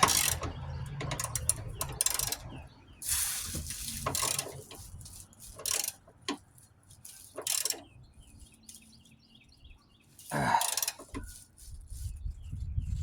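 A ratchet tightens the motor mount bolts on a 2007-2012 Nissan Altima, close up. Bursts of rapid clicking repeat in short strokes, separated by brief pauses, with no talk.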